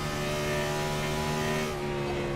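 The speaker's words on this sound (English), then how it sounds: "You can hear the car bouncing and scraping as it goes over the bumps." A race car in a racing video game rattles over a bumpy, rough track, with a loud steady engine drone under faint scraping.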